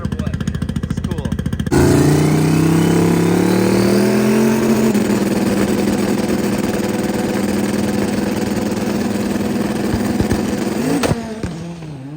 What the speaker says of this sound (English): Anything in drag racing can happen. The Honda takes it.